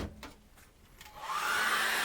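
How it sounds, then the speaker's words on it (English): A hair dryer switches on and blows with a steady, loud whooshing roar that builds after a quiet moment with faint rustling, drying acrylic paint. "I'm just going to dry that off very quickly with a hairdryer"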